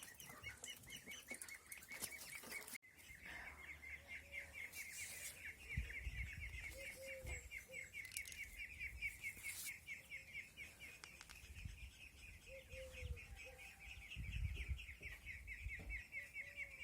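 Ducks chatter and cheep continuously nearby, with occasional soft quacks and rustling, in a quiet outdoor setting without talking.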